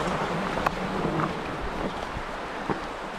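A creek runs strongly after record flooding, giving a broad, steady rush of water mixed with wind buffeting on the microphone and a few soft knocks.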